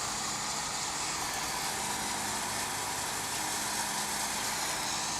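Embraer 175 jet taxiing at Dallas/Fort Worth International Airport, a steady distant engine whine and broadband rumble that holds evenly throughout, with no voices.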